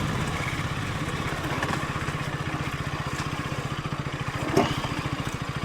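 A motorcycle ridden downhill on a steep descent in heavy rain on the way to Tindhara Waterfall in Nepal, its engine giving a steady, close, low pulsing throb throughout, with a brief louder knock near the end.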